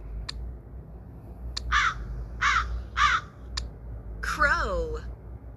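A crow caws in a string of short harsh calls spaced irregularly, fairly close and clear over a low background hum.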